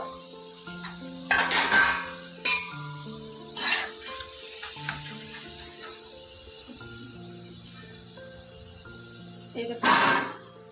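Potato French fries in their second fry in hot oil, a steady sizzle with stirring and utensil scrapes that flare into louder bursts now and then.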